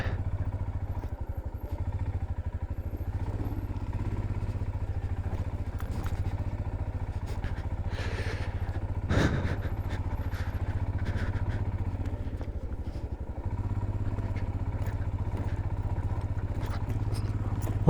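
A motorcycle rides on an icy winter road in Spiti, Himachal, its engine holding a steady low drone close by, with faint clattering and wind buffeting and a brief louder thump midway.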